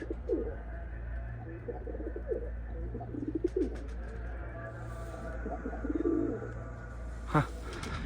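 Young pigeons on a rooftop loft coo softly after a flight, repeated low burbling calls close by against steady background hum, with a few brief flutters and light knocks.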